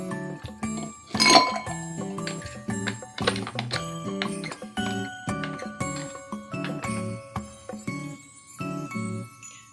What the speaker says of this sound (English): Now we're going to add in some ice cubes.